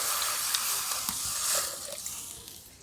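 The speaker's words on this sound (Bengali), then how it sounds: "কড়াইতে জলটা দিয়ে দিচ্ছি" Water poured into a hot wok gives a steady hissing, rushing wash with faint bubbling, fairly close and alone.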